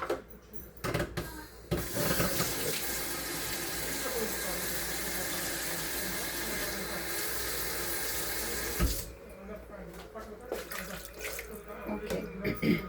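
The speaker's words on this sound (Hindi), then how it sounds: "अब मैं इसमें पानी डालूँगी, यानी आपके जितने चावल हैं उससे डबल पानी डालना है।" Water poured from a tap into a cooking pot of fried chicken and rice, a loud steady gush lasting several seconds, with quieter clatter and handling before and after.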